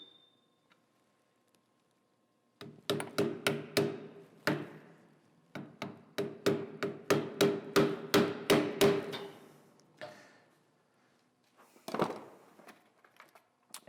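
A quarter-ounce clip-on balance weight being hammered onto a wheel rim, a run of about a dozen sharp metallic blows in quick succession, close and loud, then a pause and a final lone strike.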